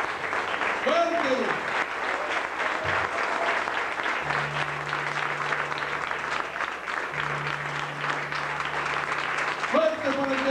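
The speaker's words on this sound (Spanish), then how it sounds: "Traen ganas de dar un fuerte aplauso al Rey de Reyes, al Señor de Señores." Church congregation applauding together in steady, loud, dense clapping throughout, with a sustained organ-like tone and a voice briefly calling out over the crowd near the start and end.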